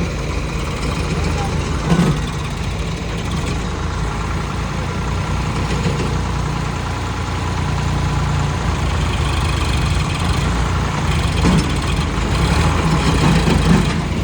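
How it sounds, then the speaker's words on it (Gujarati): Tractor engines chug loudly and close while towing, a continuous low rumble rising slightly in the second half, with people talking throughout and occasional knocks. "જો બીજું ટ્રેક્ટર ખેંચવા લાવ્યું છે"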